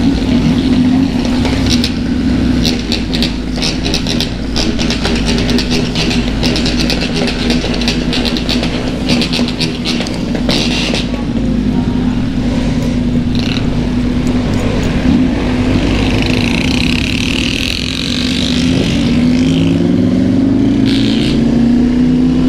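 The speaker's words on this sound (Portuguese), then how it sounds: "esse barulho dessa moto, mano, me lembra um som de alguma coisa. De um V8, né?" A motorcycle engine with a deep V8-like tone revs and idles continuously up close on city streets, loud and steady with rising revs near the end.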